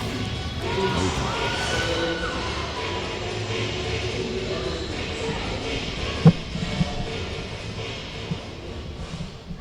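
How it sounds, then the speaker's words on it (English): Packed crowd at a college volleyball match at UNC Pembroke, a steady roar of cheering and shouting that fills the arena, with a few sharp ball thumps partway through and no clear talk. "A packed house and a great crowd today at UNC Pembroke"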